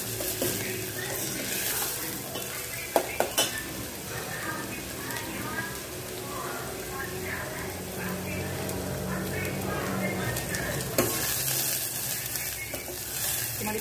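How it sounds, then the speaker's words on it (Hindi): Onions fry in oil until golden brown, a steady close sizzle and crackle running throughout with a couple of sharp utensil knocks against the pan, in a home kitchen. "और इसको तब तक फ्राई करेंगे जब तक ये गोल्डन ब्राउन ना हो जाए"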